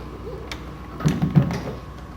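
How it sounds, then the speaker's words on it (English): A cabinet door on a Predator arcade pinball machine is shut after a fuse is replaced, making a couple of soft, low thumps and a brief latch-like clunk over quiet room noise. "Close your door."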